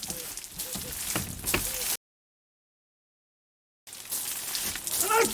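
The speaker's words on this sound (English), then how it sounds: "Oh, it's still raining." A rain sound effect hisses steadily as a dense wash of falling drops, cutting to total silence for a couple of seconds before resuming at the same level.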